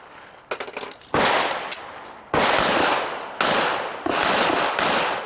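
Gunshots from a shooter at an IDPA pistol match at Mecklenburg Wildlife Club: a few quick light cracks, then four loud sharp reports with long ringing tails, spaced about a second apart, close by.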